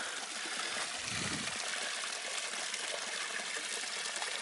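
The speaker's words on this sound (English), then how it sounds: "Here's the spring. Well, it's more like a little stream really" A small spring-fed stream runs through woodland, a steady, even rush of trickling water close by, uninterrupted and without voices.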